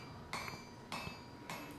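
Three evenly spaced, ringing hammer blows strike wrought iron near welding heat as the crossbeam of a welded-face Viking hammer is drawn out, each metallic clang sharp and close against a quiet forge.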